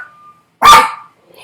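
A dog lets out a single sharp bark, loud and close, amid an otherwise quiet room.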